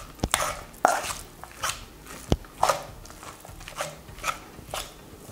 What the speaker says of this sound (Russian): Берем ложку и перемешиваем.